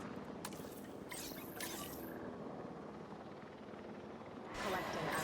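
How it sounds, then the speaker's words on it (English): A helicopter in the video game Jurassic World Evolution 3: a steady rotor and engine wash holds throughout, building louder near the end, with a voice talking over it. "Come on, helicopter."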